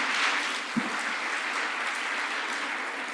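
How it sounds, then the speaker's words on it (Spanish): A church congregation applauds through a sermon, with sustained, dense clapping from a sizable crowd at steady loudness and no speech over it. "darle un fuerte aplauso a Dios por todos ellos"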